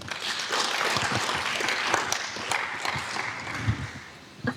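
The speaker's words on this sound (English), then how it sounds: "A big round of applause for her." A crowd applauding, a dense patter of many hands clapping at moderate volume that gradually thins out toward the end.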